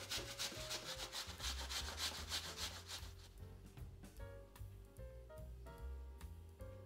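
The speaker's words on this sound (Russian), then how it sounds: "Затем наши сочные фрукты потрем на крупной терке." Peeled apples rubbed against a coarse kitchen grater in steady, rhythmic rasping strokes, close and continuous over quiet background music.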